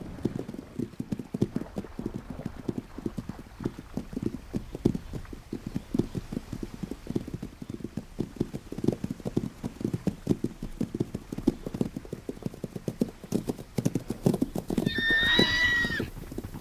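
Hooves of a mature stallion pounding in a fast, steady clip-clop as he chases a mare across open ground, with a loud whinny breaking out near the end.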